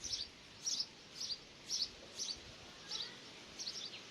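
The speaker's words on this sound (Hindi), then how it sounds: "आपको आवाज़ आ रही है चिड़ियों की? इसके अंदर बहुत सारी चिड़िया रहती हैं।" Small birds inside a drying well give short, high chirps in repeated bursts, about eight of them at a loose, even pace, soft and slightly distant against a quiet background.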